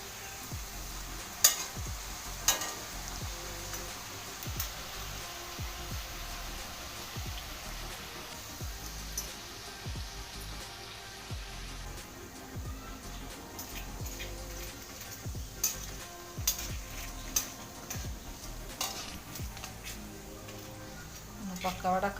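Pakkavada pieces fry in hot oil with a steady, even sizzle and crackle, broken by light scraping and stirring knocks as the pieces are turned over, held close throughout.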